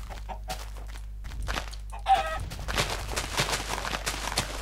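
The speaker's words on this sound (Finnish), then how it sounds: "Kanoja." Chickens clucking in the Minecraft video game, a few short game-sound clucks and squawks over steady background hum, with the player's own noises scattered around them.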